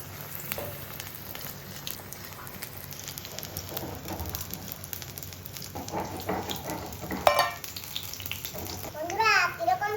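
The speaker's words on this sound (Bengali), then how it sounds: "এখন আমি একটা একটা করে বেগুনটা মাখিয়ে ভাজা দেবো" Battered eggplant chops frying in hot oil in a home kitchen, a steady broadband sizzle and crackle running throughout, with a few louder spits and bubbling bursts near the end.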